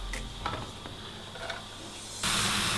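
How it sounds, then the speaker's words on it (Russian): Mushrooms dropped into a dry frying pan, a soft hiss with light stirring and scraping that swells into a louder, steady sizzle toward the end. "Все, отправляем грибочки в сковородку, прям в сухую сковородку"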